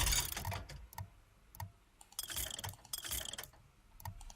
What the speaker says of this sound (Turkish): Çalışan makine buldum ama hiçbir işime yaramıyor.